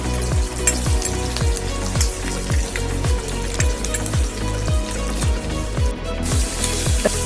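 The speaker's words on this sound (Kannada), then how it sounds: "ಇವೆಲ್ಲ ಹಾಕಿ ಒಗ್ಗರಣೆ ಫ್ರೈ ಮಾಡ್ಕೋಬೇಕು." Mustard seeds, urad and chana dal, green chilli and garlic sizzle and crackle loudly in hot oil for a tempering, a steady dense frying hiss with repeated popping bursts throughout.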